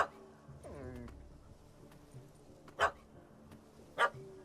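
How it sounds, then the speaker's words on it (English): Puppy in The Witcher 3: Hearts of Stone giving a couple of short, sharp yips or barks that stand out clearly, with a whimpering whine earlier over quiet game ambience. "That gammy puss ran up a tree to escape that puppy."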